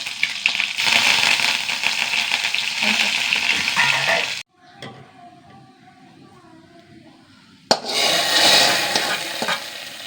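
Mustard seeds, a dried red chilli and curry leaves sizzle loudly in hot oil, a steady crackling fry that cuts out briefly to a quiet pause before the sizzling resumes.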